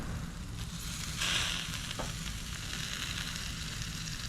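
Chicken and lamb loin chops on a grill, giving a steady soft sizzle with a brief brighter hiss partway through as the meat is turned, close but fairly quiet.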